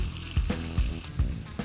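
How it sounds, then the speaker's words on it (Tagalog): Onion and ginger sautéing in a pan for a creamy coconut-milk cream dory dish at a cooking contest, a close, continuous sizzle with regular stirring scrapes about every 0.4 seconds. "Gisa-gisa."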